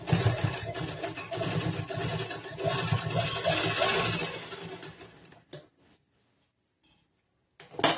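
A sewing machine stitches a blouse with a steady, loud mechanical whir for several seconds, then stops abruptly into near silence before a brief restart at the end.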